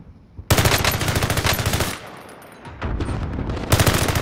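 Rapid automatic gunfire from a video game rattles in two loud sustained bursts with a brief lull between them.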